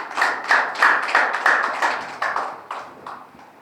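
Audience applause at a Tamil literary stage event honouring children's writer Vandumama, a burst of hand clapping that rises quickly, holds steady, then thins out and fades over a few seconds.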